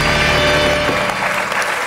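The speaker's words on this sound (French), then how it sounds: "Véronique Huibin, qu'on peut applaudir, qui travaille pour nous." Studio audience applause on a televised Belgian word-game show, a dense steady wash of many hands clapping, loud and close, fading slightly toward the end with no voices.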